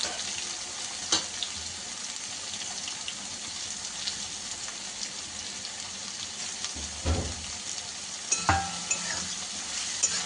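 Onions frying in a pan give a soft, steady sizzle with occasional louder clatters of stirring, fairly quiet and close, with no talk.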